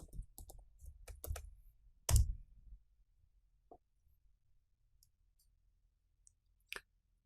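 A passphrase is typed on a computer keyboard in a quiet room, with sparse, faint key clicks in short bursts and one sharper, louder clack, then widely spaced single taps.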